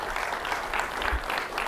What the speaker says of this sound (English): You didn't say a word and you got a round of applause.